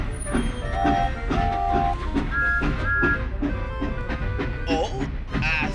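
A train rolls past in a steady, loud rumble with rhythmic wheel clatter and a few short whistle-like tones, while voices speak over it.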